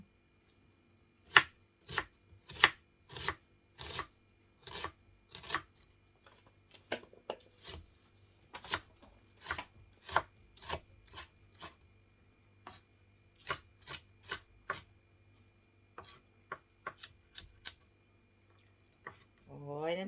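An onion being chopped on a cutting board, with sharp knife strikes coming in quick uneven bursts and short pauses, close and clear in a quiet room, and a voice at the very end.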